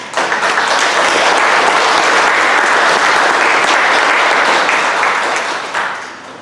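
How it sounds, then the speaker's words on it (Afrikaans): Wedding guests give the newlyweds, Christo and Elize, a steady round of applause, a dense, even wash of clapping that holds loud for several seconds before tapering off at the end. "Kom ons klap vir hulle hande."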